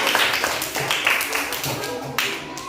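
Classroom applause for a student group, a short burst of clapping from pupils with scattered taps, moderately loud and fairly steady over under three seconds.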